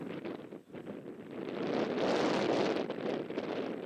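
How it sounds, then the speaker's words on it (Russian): Strong wind buffets the microphone in a steady roar at a youth football match, swelling louder after the first second and staying heavy, with no voices. "Ох, какой ветер!"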